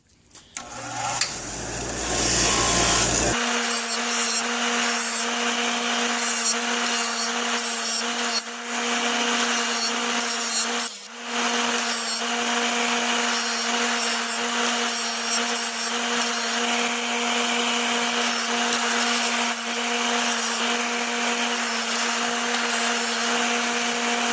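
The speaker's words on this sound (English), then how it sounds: "So I'm going to wire wheel them up." A wire wheel scrubs corroded hardware from a 1977 Evinrude 4 HP outboard motor. After a short spin-up it settles into a loud, steady grinding whir with scratchy abrasion, dipping briefly once midway.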